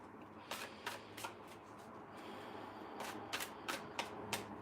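A tarot deck is shuffled in a quiet room: soft, close riffling bursts come in two clusters, a few quick flicks, then a pause and another run of crisp card slaps, all faint and without talk.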